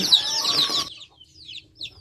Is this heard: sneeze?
no